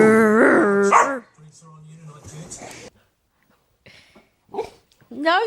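A dog barks, growls and yips in short bursts, close and loud, trading back and forth with a person talking.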